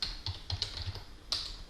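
Quick, light clicks of someone typing on a computer keyboard, an uneven patter of keystrokes heard up close and fairly quiet, with no talking.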